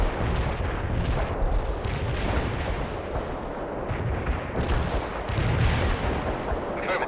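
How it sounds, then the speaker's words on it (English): An artillery barrage in the video game World in Conflict, a dense, continuous rumble of booming blasts and distant explosions rolling together for several seconds, loud and alone. "Artillery strike on the way."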